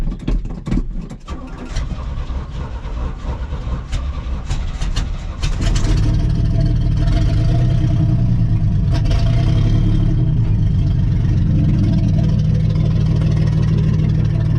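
A 1980 Chevy C20 pickup engine cranks and sputters with clicks and rattles, then catches at about six seconds and runs loud and a bit rough, with a throbbing, uneven idle close to the microphone.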